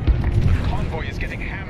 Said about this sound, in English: That missile made contact.